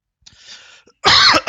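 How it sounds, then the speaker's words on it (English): A man clears his throat at close range: a soft, raspy rumble first, then a short pause and a loud, harsh hacking burst near the end. "Sorry, let me clear my throat."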